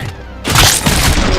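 Video game gunfire erupts after a brief quieter moment, a loud, dense burst of rapid shots that fills the rest of the short clip, with no talking.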